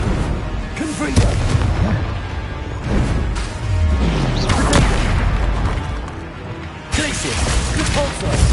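Repeated Confringo spell explosions in Hogwarts Legacy gameplay on PS5, heavy booming blasts landing one after another over a dense, loud barrage of combat effects.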